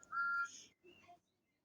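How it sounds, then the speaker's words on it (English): A toy train whistle gives a short, bright toot and then a weaker second note, with silence between the bursts. "That's just a whistle."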